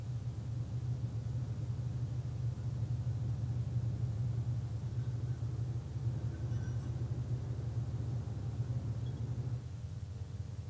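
A large mining truck engine at the Pine Point mine gives a steady, low rumbling drone, fairly distant and even throughout, dropping slightly near the end.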